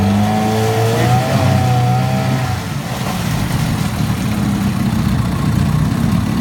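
A Mercury 9.8 HP outboard motor runs steadily and loudly after a gentle pull start, holding a constant close engine drone throughout without any talk.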